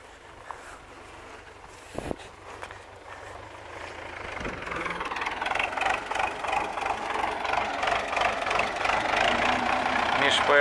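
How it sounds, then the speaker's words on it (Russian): An MTZ-80 tractor's diesel engine rumbles, starting low and growing steadily louder as it revs up, with a few knocks early on and a faint voice underneath. "поехал домой ставить трактор"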